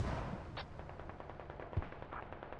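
Artillery and gunfire rumble through a military video game battle, a string of rapid, muffled, distant booms and cracks rolling on without pause, with no voices.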